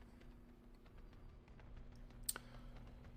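Scattered light clicks of typing on a computer keyboard, faint and irregular, over a quiet hum, with one sharper click near the end.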